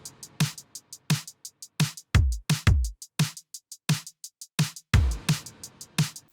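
Drum production from a modern metalcore synthwave song plays alone, with punchy layered kicks, snappy snares and bright cymbal hits in a driving, steady pattern, loud and tightly mixed.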